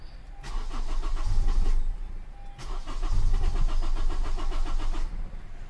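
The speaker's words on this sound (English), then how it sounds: "So I'm gonna crank the car" A 2014 Honda CR-V 2.4L AWD with a fuel pump that won't turn on cranks twice with a steady, rhythmic starter chugging. Neither attempt catches, and there is a short pause between the two.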